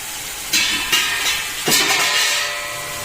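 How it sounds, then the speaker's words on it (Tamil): Dried fish (karuvadu) sautéing in a pan gives a steady loud sizzle, broken by a few sharp stirring bursts as the pieces are tossed. "கருவாடையும் நல்லா கொஞ்சம் வதக்கிக்கணும்."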